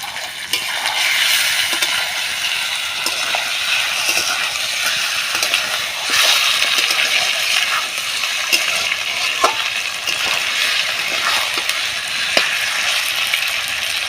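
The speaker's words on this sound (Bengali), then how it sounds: "দিয়ে ভাজা ভাজা করে নেবো একসাথে" Chicken fried with ginger and garlic in a pan for kosha crackles with a continuous close sizzle, broken by occasional sharp clicks and scrapes of a utensil stirring.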